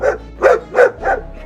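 A Bull Terrier barks four times in an even rhythm, each bark loud, close and sharp, with no talking.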